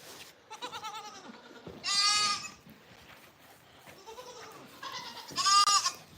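Goats bleat inside a wet, muddy barn on a goat farm. Two loud, close bleats stand out above a steady chorus of softer bleating from other goats nearby.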